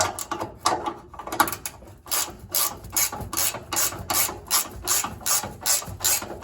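Ratchet wrench loosening the fuel tank strap bolts on a 2006 Dodge Ram 1500 Mega Cab, a close, steady run of quick clicking bursts repeating in an even rhythm with no talk.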